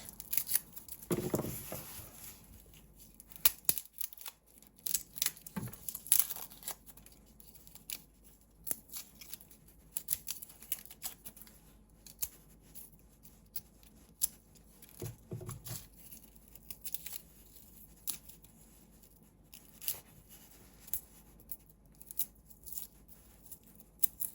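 Garlic cloves being peeled by hand, faint close-up crackles and papery skin tearing in scattered bursts separated by quiet pauses.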